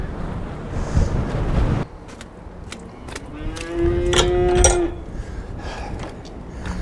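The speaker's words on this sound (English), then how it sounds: "Wait for the wind to catch it." Strong wind blows around a farm shed door on a nasty day, with rough microphone buffeting in gusts that rise and fall. A cow's moo rises briefly mid-clip.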